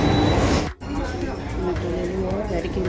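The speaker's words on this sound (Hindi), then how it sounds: "ये आ गई है मेट्रो।" A metro train pulls into a station amid a steady rumble and crowd murmur, with a brief dip in the noise partway through, while someone talks over it.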